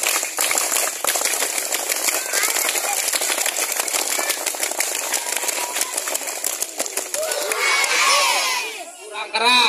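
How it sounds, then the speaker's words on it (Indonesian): Schoolchildren clap in a dense, loud crowd of hands, a steady patter of claps with excited voices, ending in shouting and children's voices near the close. "Tepuk pramuka berkali-kali."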